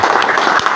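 Crypto trading event audience clapping for the team, a short loud burst of many hands applauding up close, dense and continuous for under a second.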